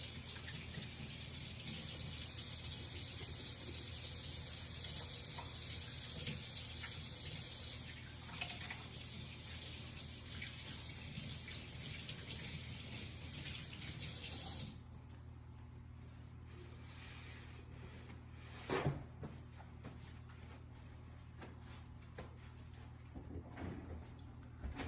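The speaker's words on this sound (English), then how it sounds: "Next, we're going to wash our hands so we don't cross-contaminate." Running tap water pours steadily into a sink for about fifteen seconds while hands are washed in a school culinary kitchen, then the flow stops, leaving faint room tone with a few light knocks and handling sounds.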